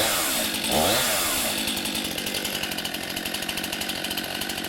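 A Stihl chainsaw engine runs loud and close, revving up briefly before settling into a steady, rapid idle rattle.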